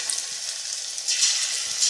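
Potato pakoras frying in hot oil give a bright, close, continuous sizzle with crackling bursts that grow louder partway through, no voices.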